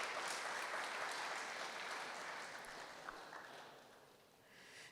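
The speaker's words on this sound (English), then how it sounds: "Let's give audience a huge round of applause" An audience at a corporate CSR leadership summit in Bengaluru claps in a continuous, fairly distant wash that slowly fades toward the end, with no voices.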